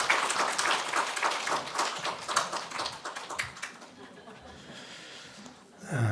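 A church congregation at a Sunday service claps to welcome their elder pastor: lively, fairly close applause that peaks early, then gradually fades away, followed by a brief low thump near the end.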